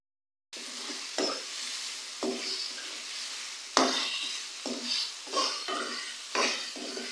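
Chicken and tomatoes frying in oil for bhuna chicken crackle and sizzle close up, with repeated spatula scrapes against the pot coming every second or so and no voices.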